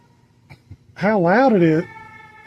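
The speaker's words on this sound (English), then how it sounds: "You're going to turn that siren on every time I say something." A wavering siren wails loudly for a couple of seconds in a garage during work installing a line lock on a 2002 GMC Sierra, with someone talking just before and after.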